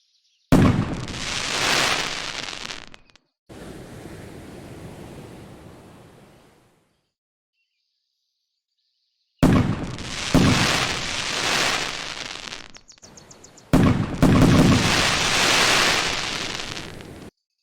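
Fireworks launched in the video game Dreamworld: long bursts of broad, hissing rumble with rushing whooshes, several separate volleys broken by quiet gaps, loud and close with no talk.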